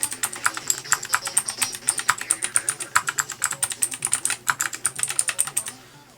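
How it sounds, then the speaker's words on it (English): Typing on an X-Bows Nature ergonomic mechanical keyboard, a fast steady patter of crisp key clicks close to the mic, continuing for several seconds before trailing off. "these larger keys here do sound completely different from their neighbours"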